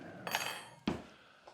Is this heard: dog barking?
no